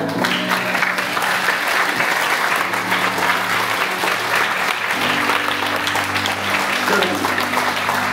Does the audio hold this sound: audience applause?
yes